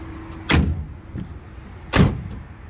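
Fold-down workbench in the tailgate of a 2023 GMC Sierra HD swinging shut, two solid close thumps about a second and a half apart with faint clatter in between.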